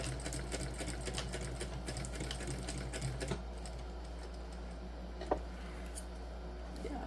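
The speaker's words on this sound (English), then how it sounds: "So we're just going to top stitch along the top of each of the exterior folds here." A sewing machine top stitches along the folds of a fabric crossbody bag, its rapid needle chatter running fast and steady, then slowing into quieter stitching with an isolated click.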